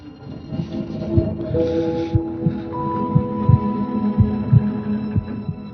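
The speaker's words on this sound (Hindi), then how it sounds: "तुम्हारी धड़कनें अभी भी तेज है," A fast, steady heartbeat thuds in close, low pulses with a soft hum underneath, no voices over it.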